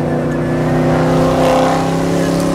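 A race car at a racetrack during a rally, its engine droning loudly and steadily close by, with a slight swell in the middle of the brief burst.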